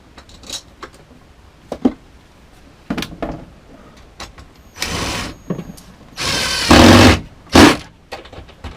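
A power drill drives 16mm screws into a small shed's storage fitting, with short buzzing bursts and a longer whirring run amid clicks, taps and handling knocks, close and fairly loud.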